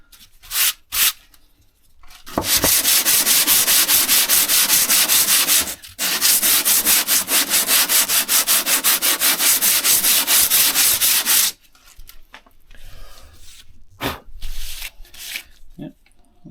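Brembo brake parts from a Ford Focus RS being hand-sanded with 120 grit emery cloth on a flat surface for a light deglaze: a loud, steady rhythmic scrubbing from about 2.5 to 11.5 seconds, broken by one short pause, with quieter scuffs around it.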